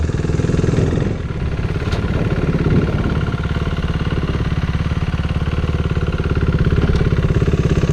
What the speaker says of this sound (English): Pull in, lift it up, and slowly ease out the clutch. Now I'm in second gear.